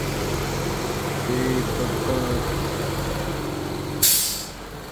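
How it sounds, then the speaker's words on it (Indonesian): A 2016 Suzuki Baleno engine idles steadily with a low even hum and faint injector ticking, then a sharp hiss of air bursts out near the end. "suara mesin super halus"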